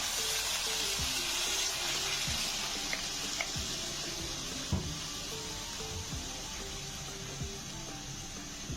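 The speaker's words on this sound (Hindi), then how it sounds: "इसमें मैं ये 4 गिलास पानी डाल रहा हूँ" Water poured into cooking masala for chicken pulao, a steady soft gushing hiss running throughout with faint kitchen clinks.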